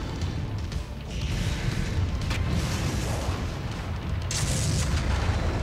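Heavy AC-20 autocannon fire in the mech combat game MechWarrior 5 Mercenaries, a dense, continuous rumble of booming shots and impacts with no clear gaps, fairly loud and steady throughout.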